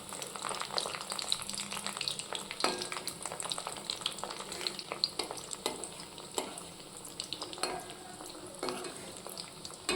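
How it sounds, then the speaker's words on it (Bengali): Chicken fingers fry slowly in oil, turned from side to side, giving a steady, dense crackling sizzle with occasional clinks of a utensil against the pan. "চারিদিকটা ঘুরিয়ে ফিরিয়ে ভাজবো যাতে সব দিক থেকে সুন্দরভাবে ভাজা হয়"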